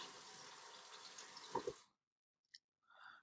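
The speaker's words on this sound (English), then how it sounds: "I'm having a little bit of trouble trying to fill this balloon up with water" A running water tap pours steadily into a balloon for about two seconds, then stops, leaving faint drips and small handling sounds in a quiet room.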